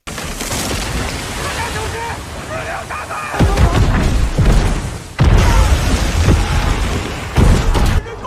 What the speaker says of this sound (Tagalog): biglang sumabog ang ilang delayed action bombs na nakatago sa ilalim ng tubig